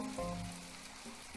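Steady in-game rain in the farming sim My Time at Portia, a soft continuous patter with a faint sizzle, fairly quiet and even, with a low tonal game sound underneath and no talk.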